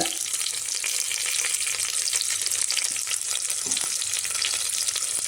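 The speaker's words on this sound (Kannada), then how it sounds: "ಇದೆಲ್ಲ ಸ್ವಲ್ಪ ಫ್ರೈ ಆಗಿ" Onions and spices frying in oil sizzle in a steady, close, dense crackle for a few seconds, with faint stirring scrapes and no talk, while a home cook prepares a Karnataka-style gojju or saaru.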